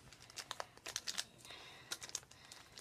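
Plastic bag crinkling while unboxing a 1,000 GB storage drive and its cable: a series of close, sharp crackly rustles in short bursts, pausing midway and then resuming, with no talking.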